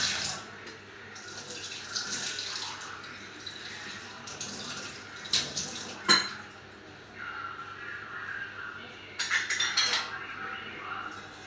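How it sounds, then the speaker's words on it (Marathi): Water is changed in metal worship vessels during a home puja, with light metallic clinks and clatter over a soft trickle of water, fairly quiet and close. "पाणी बदलते।"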